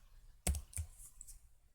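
Two or three quiet keystrokes on a computer keyboard while someone works in FreeCAD, with a sharp first click and softer taps after it against a near-silent room.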